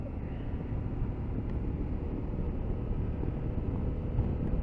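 Engine of a 2022 CF Moto 800MT touring motorcycle just after a downshift into fourth, with two riders aboard: a steady low rumble under heavy wind buffeting, continuous and fairly loud with no talk.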